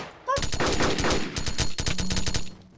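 Rapid gunfire in the Minecraft mod The Crafting Dead rattles out in quick bursts of sharp repeated shots, loud and close, with a brief pause midway before another burst.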